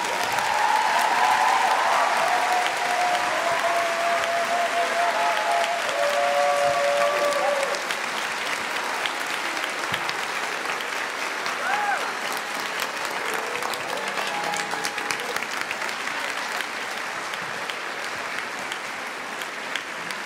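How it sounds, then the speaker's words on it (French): Sustained audience applause for the models at a virtual fashion show, a dense wash of clapping that fills the whole stretch at steady loudness and only eases slightly toward the end. "vous pouvez les applaudir encore une fois"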